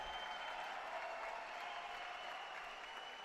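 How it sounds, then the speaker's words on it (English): A crowd applauds steadily at a collegiate diving championship after a perfect forward two-and-a-half somersault with two twists. The clapping forms a dense, even wash that holds at a moderate level throughout, with no voices standing out. "The crowd gives him a loud round of applause as Buchter realizes what he has just done"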